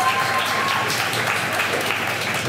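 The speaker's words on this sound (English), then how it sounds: "Another round of applause for Amara, please." A community poetry night crowd claps warmly for a poet, a short burst of steady applause from a nearby audience filling the room.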